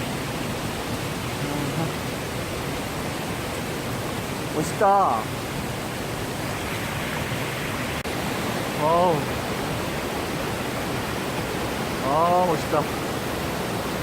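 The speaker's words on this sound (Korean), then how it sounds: "폭포 소리 때문에 목소리가 잘 들리는지 모르겠네." A waterfall in the Sinbulsan recreation forest in Ulsan roars as a constant, dense wash of rushing water, with brief voices of people speaking over it.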